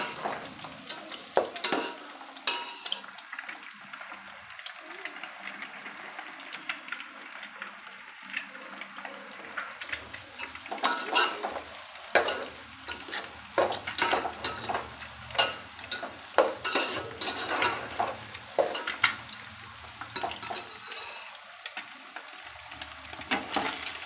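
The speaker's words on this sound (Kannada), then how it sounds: "ಈ ಕಡೆ ನೋಡಿ ಇದು ಫ್ರೈ ಆಗ್ತಾ ಇದೆ." Egg fried rice sizzles in a hot pan while a spatula stirs and scrapes it repeatedly, producing an uneven run of close clatters over a continuous fry.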